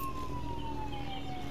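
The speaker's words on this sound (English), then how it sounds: "hearing sirens instantly makes me think I need to pause and wait for them to go away." A police siren from the video game Road 96 wails steadily and fairly loud over a low engine rumble, its slowly gliding tone filling the whole short stretch with no talk.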